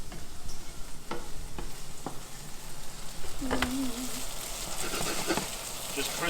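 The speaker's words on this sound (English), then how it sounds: "crisping up this pancetta" Thick pancetta sizzles and crisps in a pan with a soft, steady hiss, broken by scattered clicks and a few faint stirring knocks.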